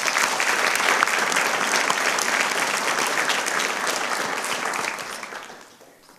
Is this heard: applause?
yes